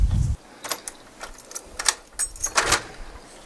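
A set of keys jangles and rattles in a garage being cleared out for a home gym, with several quick metallic shakes spread across the moment, close by and with no talking.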